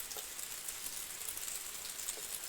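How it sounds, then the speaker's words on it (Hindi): Heavy rain pours steadily on a mountain village, a dense continuous hiss with no voices. "ये देखो झमाझम बारिश लगी हुई है, देखो दगड़ियों।"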